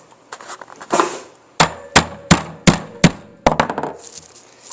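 Hammer banging down metal wreath clamp prongs over brush, a series of sharp, close, loud knocks in an uneven rhythm, about a dozen strikes with short pauses between groups.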